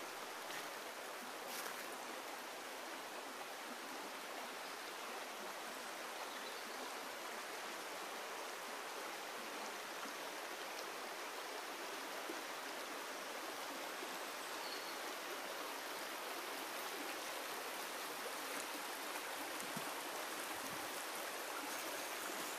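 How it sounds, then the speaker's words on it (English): A river near Alyth flows gently through trees, a steady, even gurgle and rush of water that runs unbroken throughout, heard alone with no voices. "the river just gently gurgling through the trees"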